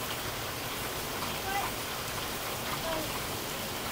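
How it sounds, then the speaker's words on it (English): Steady, hissing rain falls evenly throughout, with a couple of faint high tones briefly poking through. "It's raining, it's pouring"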